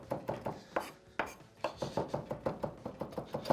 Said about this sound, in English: So run your knife through there a bunch of times.